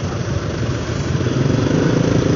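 A motorcycle engine drones steadily while riding through a congested midday traffic jam in Sidoarjo, a loud, continuous low rumble with wind and road noise close to the rider.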